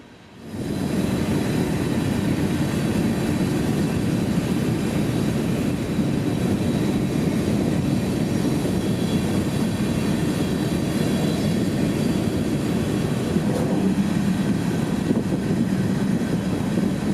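BNSF freight train 576 on the S Line at night, passing at about 55 mph with a steady, loud, continuous rumble and rolling roar that holds evenly from start to finish, with no talking.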